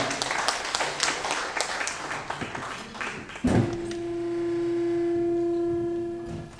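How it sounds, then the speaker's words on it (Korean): An audience at an anniversary ceremony claps for a few seconds, then the applause stops abruptly and a sustained electronic hum or tone follows. "축사를 해주신 모든 분들께 뜨거운 박수 부탁드리겠습니다"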